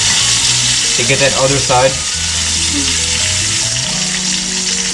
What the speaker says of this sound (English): going to move it on all the sides so it gets seared on all sides